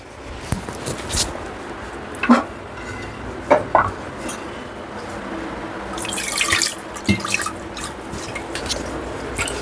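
Mutton pieces being washed under a running tap in a cloud kitchen, with splashing water, drips and clattering vessel and metal clinks in irregular bursts, no voices.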